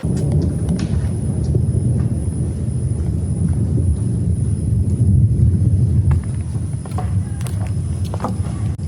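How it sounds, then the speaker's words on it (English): Low, rolling thunder rumbles steadily in the distance in Malaysia, a broad continuous roar with faint crackles and no voices. "That is the sound of thunder and lightning."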